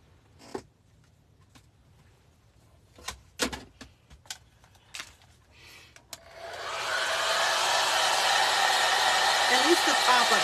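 A hair dryer drying a wooden heart switches on after several seconds of scattered clicks and handling taps, then runs as a steady, loud, close whooshing blow until the end.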